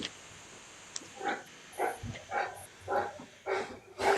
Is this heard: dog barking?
yes